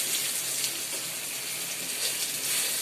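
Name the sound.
eggplant (brinjal) frying in a pan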